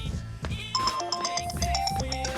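A mobile phone rings for an incoming call, a bright electronic melody of quick repeated tones playing loudly and steadily, with a faint murmur of room noise underneath.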